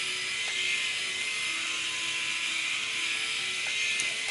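Bumzzy 2.0 electric body shaver trimming longer body hair, giving a steady close high-pitched buzz that runs continuously without pause.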